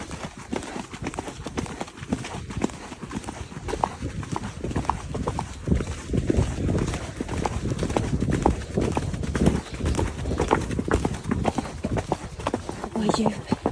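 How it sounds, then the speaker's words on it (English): Freddie, a cob out hacking, canters with a steady rhythmic clip-clop of hooves close by, while people talk over the hoofbeats. "Watch that perfect little canter. Oh God, what a lovely cob."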